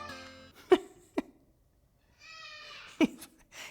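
A baby's wailing cries in short bursts, with sharp vocal outbursts between them and a quiet pause in the middle, fairly close.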